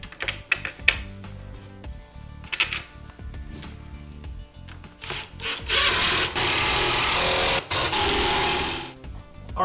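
Power driver running screws in to mount a speaker grille over a newly installed woofer on a Polaris RZR, with sustained bursts of motor whine between shorter clicks and handling knocks.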